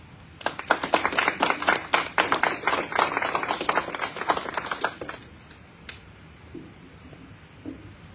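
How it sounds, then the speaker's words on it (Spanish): Applause for a doctor introduced at an academic talk, a modest group of distinct, fairly close hand claps for about five seconds before tapering into near silence. "le pido que le den un fuerte aplauso"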